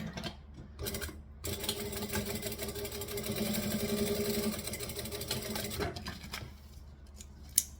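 A sewing machine topstitches along a folded-over fabric edge, running as a steady mechanical whir for several seconds with brief starts and stops at either end.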